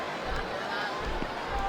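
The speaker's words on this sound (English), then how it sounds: "It sounds like this capacity crowd has something on their minds" A capacity arena crowd roars in the Smackdown vs Raw 07 wrestling video game, a dense, steady wall of voices with faint rhythmic swells that hint at a chant, with no clear talk on top.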